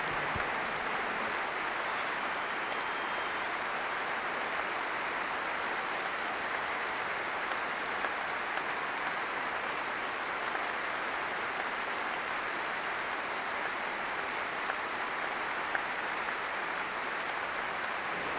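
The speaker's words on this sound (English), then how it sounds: "And there was a minute's applause as a fitting mark of respect" A football crowd at an international match between Northern Ireland and Finland gives a minute's applause as a tribute, steady dense clapping from a large stadium audience, sustained and even throughout with no speech.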